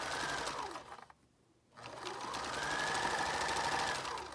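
A sewing machine runs a steady stitching hum through knit fabric for a baby kimono, pauses briefly, then resumes a continuous close run.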